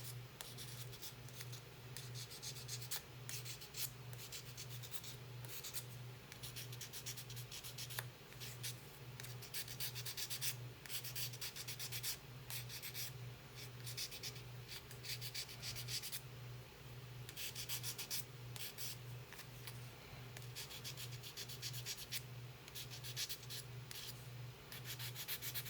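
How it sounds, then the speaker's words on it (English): Wooden bench edges are sanded by hand for a rustic farmhouse look. The sandpaper rubs and scrapes close and quiet in steady back-and-forth strokes over a constant low hum, with no talking. "I'm just going to carefully sand some of these edges"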